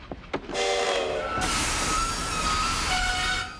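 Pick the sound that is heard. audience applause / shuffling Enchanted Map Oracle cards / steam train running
steam train running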